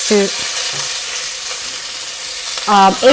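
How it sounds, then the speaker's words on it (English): Asafoetida and fresh curry leaves hitting hot vegetable oil for Punjabi kadhi, a loud close sizzle that holds steady for about three seconds, with brief utensil scrapes at the start and end. "she's adding a pinch of hing, which is asafoetida, and then just stirring up 8"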